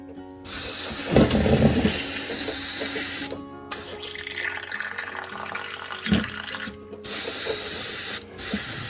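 An airbrush sprays paint onto an HO scale model railroad lava rock breakwater, a close, steady hiss in several long bursts separated by brief pauses, with no talking.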